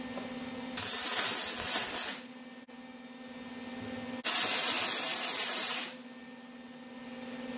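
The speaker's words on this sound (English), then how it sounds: "All right, we'll run a little tack on that one." Tack welding a steel roll bar on a 1955 Chevy gasser, two loud crackling, hissing bursts of about a second and a half each over a steady background hum.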